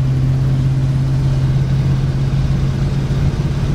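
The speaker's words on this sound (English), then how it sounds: "the old truck drives pretty good" An old dually pickup truck engine running steadily while driving, a loud, constant low drone with a firm hum and no break, heard alone.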